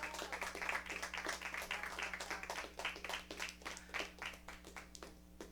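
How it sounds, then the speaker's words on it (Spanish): Church congregation applauding together in a sustained burst of rapid, dense clapping, heard at a moderate distance and tapering off slightly toward the end. "Dale un aplauso fuerte al Señor"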